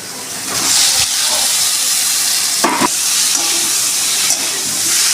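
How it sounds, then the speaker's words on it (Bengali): Fried cauliflower is stir-fried with spice paste in oil for a tengra fish curry, with a loud continuous sizzle, a few sharp spatula scrapes against the pan and a bright hiss of steam. "ফুলকপি দিয়ে ভালো করে নেড়ে চেড়ে ভেজে নেব মশলাটা"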